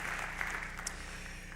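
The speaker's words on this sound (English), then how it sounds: "Please give a round of applause to those folks giving up their time coaching our Tiger Lady tennis players" Audience applause at a spring sports awards ceremony, honoring the volunteer coaches of a girls' tennis team; a steady, even wash of many hands clapping at moderate distance, continuous for the whole stretch.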